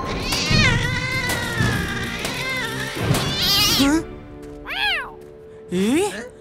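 A cat meows several times, with rising and falling cries, alongside bright tonal sounds and voices earlier on.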